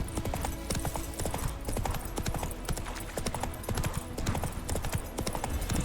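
In Witcher 3, the horse Roach trots along with steady, rapid clip-clopping hoofbeats that carry on without a break, loud and close, under a continuous wash of game ambience.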